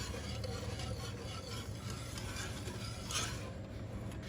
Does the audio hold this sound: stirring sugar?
yes